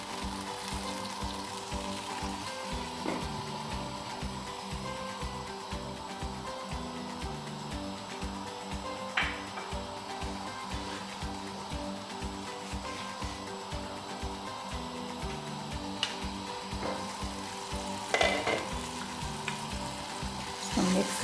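Mushroom fried rice mixture sizzling steadily in a pan, with repeated scraping and stirring strokes at an even rhythm and a few louder clanks along the way.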